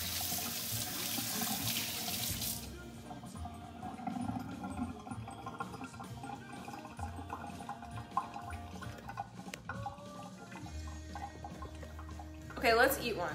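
Kitchen tap water running briefly while hands are rinsed during home baking, a hiss of flowing water at the start fading into quieter handling noise and clatter, with a person talking over it.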